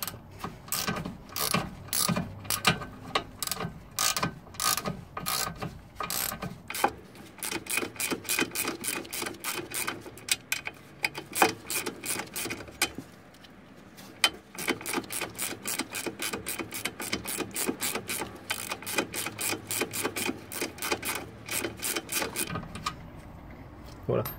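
A ratchet clicks in rapid bursts while undoing a nut on the hub carrier of a Seat, with fast ratcheting runs broken by short pauses and close, sharp mechanical clatter.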